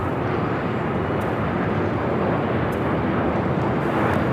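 An airliner taking off from runway 24 left at Los Angeles International Airport, a loud, steady broadband jet engine roar filling the air without letup.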